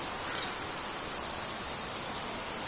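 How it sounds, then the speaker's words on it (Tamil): Steady rain falling outdoors in Tirunelveli under dark skies, a dense, even hiss of noise throughout, fairly loud and close, with no voices. "லைவாக மழை பெய்யுது பாருங்கள்"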